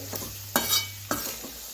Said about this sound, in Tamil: நல்லா கலந்துட்டு ஸ்டவ் இந்த டயத்தில் ஒரு மீடியம் ஃப்ளேமில் வச்சு ஒரு 5 நிமிஷம் வதக்கி விட்டுக்கலாங்க